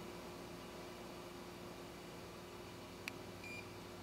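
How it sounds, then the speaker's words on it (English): A single short electronic beep rings out once from a Sartorius GD503 laboratory balance over a steady low hum of machinery, with no voices. "close the door, you'll hear a beep."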